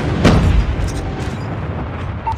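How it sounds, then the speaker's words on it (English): Enemy airstrike explosions in the shooter game Call of Duty Mobile, a heavy boom near the start followed by a sustained low rumbling roar that fades slightly, with a faint tone near the end. "Enemy airstrike incoming."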